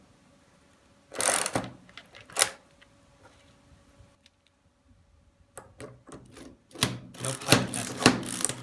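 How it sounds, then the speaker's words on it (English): A Yankee screwdriver pushes screws into a magnet salvaged from a dead hard drive, giving sharp ratcheting clicks and clattering bursts, two early and a denser run near the end, with a brief spoken remark. "that's why I like this Yankee screwdriver, because I can just pound the screws right in."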